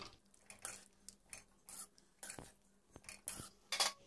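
Paneer is stirred into matar masala in a pan, with close, intermittent scraping and clinking of a utensil against the metal and soft wet squelches, with no talking.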